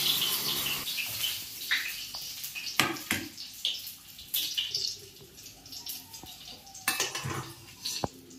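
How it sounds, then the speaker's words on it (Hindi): Water splashes and pours while a newborn twin baby is bathed outdoors in sunlight, an irregular run of close splashing and trickling with a few sharp clinks, fairly loud and without talk. "अब होगा छोटी वाली का नहाना।"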